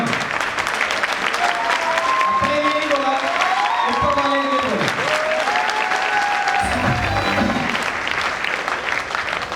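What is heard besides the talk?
seminar audience clapping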